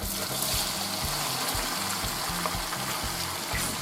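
Shrimp frying in a pan of Alfredo sauce, a steady bubbling sizzle with soft rhythmic stirring and scraping underneath, fairly quiet and close, with no talking.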